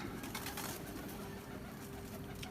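Soft, faint cooing from a Sabz Chini pigeon over a steady hiss of background noise, with no voices.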